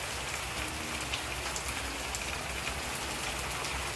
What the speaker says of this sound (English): that rain is coming down out there